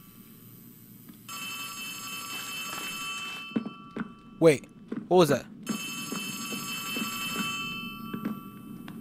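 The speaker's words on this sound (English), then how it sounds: "Who's ringing the phone?" Telephone ringing inside the Poppy Playtime video game, a steady repeating bell-like ring in bursts with a game ambience underneath, while someone speaks briefly over it.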